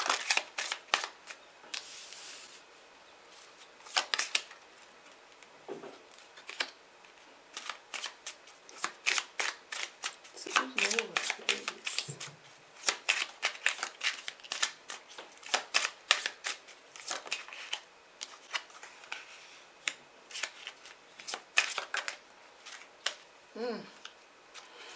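Tarot cards are shuffled by hand in bursts of crisp riffling and snapping, close but quiet, with gaps between rounds before four cards are drawn.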